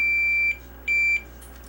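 A multimeter in continuity mode gives two short electronic beeps as the probes touch ground on a Denon circuit board, each tone steady and clear, with quiet background hum between them.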